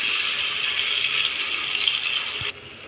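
Tamarind juice pours into a pan of Andhra-style crab curry in a steady, close liquid hiss and trickle that stops abruptly near the end; no speech.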